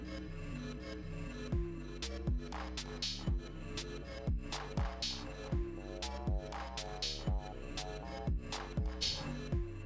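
A looping electronic drum pattern with punchy kicks and crisp hits repeating in a steady, even rhythm over a tonal bass line, no voices.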